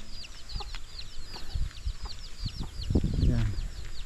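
Chickens and young chicks on a small rural Filipino coconut farm cluck and peep steadily, with high chirps scattered throughout and a few louder, nearer clucks toward the end, against faint outdoor background noise.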